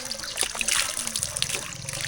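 Water runs steadily from a pipe fed by Tat waterfall in Ban Muang Sum, a Phu Thai village, with a continuous close trickling and splashing flow and no talking.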